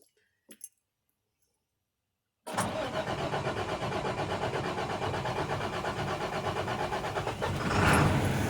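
After a quiet moment with a couple of faint clicks, a beverage truck's engine cranks and fires up, settling into a loud, steady, throbbing idle that swells near the end.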